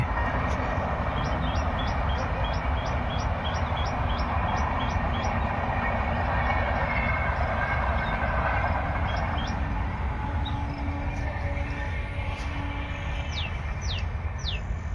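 A railway train rolls past a station for the whole stretch, a loud, steady broadband rumble and rattle of wagons, with repeated high chirps from birds over the top.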